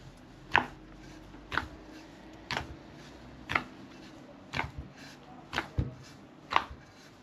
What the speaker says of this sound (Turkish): Ön mayamızı yoğuruyorum.